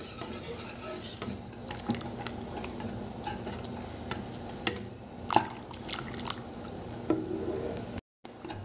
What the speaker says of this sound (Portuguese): Então essa parte eu gosto de estar mexendo com o fouet.